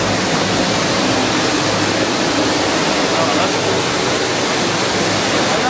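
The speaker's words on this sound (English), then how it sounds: "Oh, I can hear water and feel water." Water pouring and rushing through the flooded water room at teamLab Planets in Tokyo, a loud, dense, continuous roar that fills the space with no pauses.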